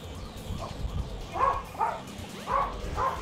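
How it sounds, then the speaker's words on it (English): Several dogs barking at a perceived intruder at the door, heard indoors as a handful of short, sharp barks and yips in separate bursts over a steady background hum. "Ladies and gentlemen, I'm sorry about my dogs."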